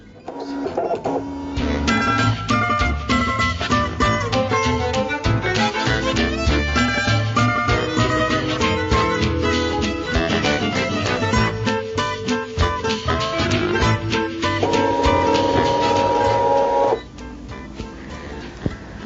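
A Brother ScanNCut cutting machine cuts paper for a lacy gatefold card, with a steady, close mechanical whirring and rapid stepping motor patterns that run continuously before stopping abruptly near the end.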